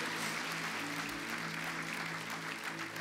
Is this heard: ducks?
no